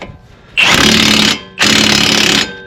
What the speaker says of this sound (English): switch it over to tightening, put it up onto the little nut, and just